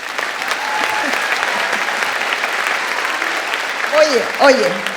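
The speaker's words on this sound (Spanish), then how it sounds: "si van a estar interrumpiendo con el aplauso" Sustained theatre audience applause fills the Teatro Oriente in Chile at a presentation by an author, dense and steady throughout, with a few voices rising over it near the end.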